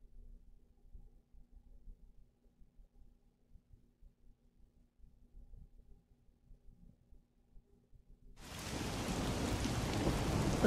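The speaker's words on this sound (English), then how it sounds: "The faint sound of a ticking clock melts against the sound of rain." Near silence with a faint low hum, then heavy video game rain abruptly rushes in, a loud steady broadband hiss that continues to the end.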